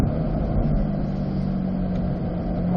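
Race car engine on a track, droning steadily and loudly from inside the cabin as the driver brakes and drops to third gear, a constant low rumble with no talk over it.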